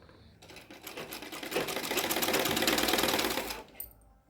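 An electric sewing machine stitches blouse fabric in one continuous run of about three seconds, a steady close buzzing hum that speeds up and then stops, with no talking over it.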